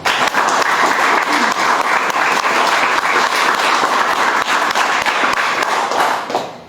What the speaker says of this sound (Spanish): pido un caluroso y afectivo aplauso